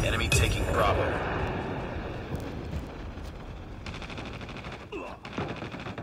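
Gunfire bursts from a sniper rifle in the mobile shooter Call of Duty Mobile, sharp loud cracks early on followed by scattered shots and rumbling battle noise.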